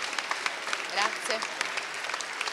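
Applause from an audience at an award ceremony in Turin, a steady wash of many hands clapping, moderately faint and continuous for a couple of seconds, with a brief voice near the middle.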